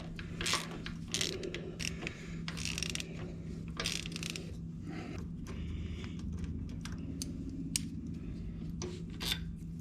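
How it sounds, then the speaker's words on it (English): Two T45 Torx bolts being removed from the shifter-side peg assembly of a Harley-Davidson Softail, giving close, intermittent metallic clicks, ratcheting and scraping with short sharp ticks spread across the stretch. "now we're gonna remove the 2 T45s right here from the peg assembly on the shifter side."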